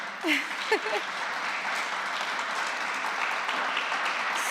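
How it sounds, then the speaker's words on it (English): Round of applause at an award ceremony for women in transport, steady dense audience clapping with a brief voice or cheer near the start, holding even and moderate to the end. "just a round of applause for everyone who's here"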